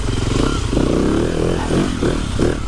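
A TM 300 four-stroke dirt bike ridden around a wet track, its engine droning loud and close with rising and falling revs, plus some clattering.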